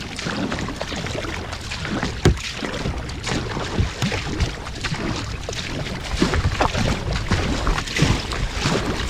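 Kayak paddling in a Stealth Fusion 480 against the wind, with repeated paddle strokes splashing and swishing through water under constant wind rush on the microphone, close and fairly loud.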